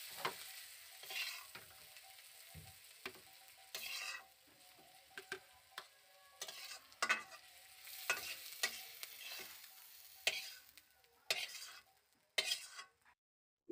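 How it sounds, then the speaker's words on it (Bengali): Onions fry in a pan with turmeric, a soft continuous sizzle broken by repeated scraping and clinking strokes of a stirring spoon, irregular and close, with no voices. "পেঁয়াজটা ভাজা খুব সুন্দর হয়ে গিয়েছে"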